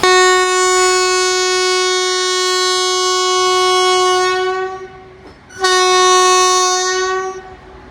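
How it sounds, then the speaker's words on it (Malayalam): Diesel locomotive horns on a Kerala railway line, the banker engine at the rear sounding first and the front locomotive answering. Two long, loud, sustained blasts are heard with a brief gap between them and no talking. "ആദ്യം ബാങ്കർ ഏറ്റവും ബാക്കിൽ നിന്ന് ഹോൺ അടിക്കും. അതിന് ശേഷമാണ് ഫ്രണ്ടിലുള്ള ലോക്കോ ഹോൺ അടിക്കുന്നത്."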